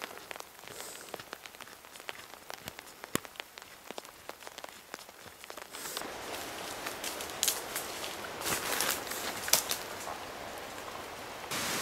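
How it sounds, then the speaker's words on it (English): Steady rain falls through woodland on a hiking trail in Tierra del Fuego, a dense patter of drops that grows heavier and more hissing partway through, with occasional footsteps and no talking. "So of course the rain started to come, so we're on our way down."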